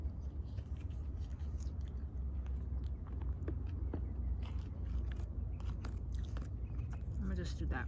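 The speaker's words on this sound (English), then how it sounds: "The curly fries are just so crunchy." Someone chews crunchy, salty curly fries up close, producing a continuous run of crisp bites and munching at low volume with no talk.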